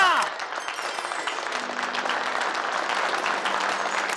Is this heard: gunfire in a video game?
no